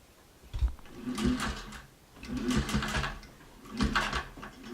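A sewing machine stitches bias tape onto a fleece dog coat, whirring close and loud in three bursts with short pauses between them. No talk.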